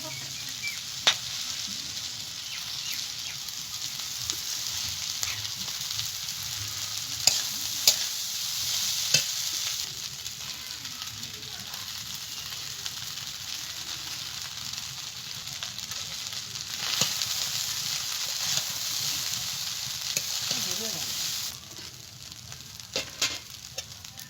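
Drained flattened rice (chire) being stirred into cooked vegetables in a pan: a steady soft sizzle with scraping strokes and occasional clicks of the spoon against the pan, alone and close.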